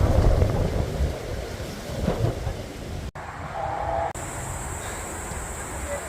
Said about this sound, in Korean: 바람 엄청 부네